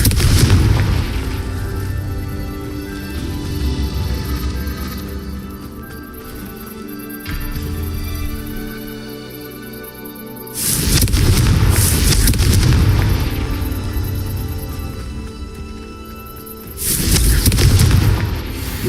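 Confringo fire spell explosions in the video game Hogwarts Legacy: loud, deep booming blasts burst out at the start, around the middle and near the end, with rumbling game ambience between them and no talking.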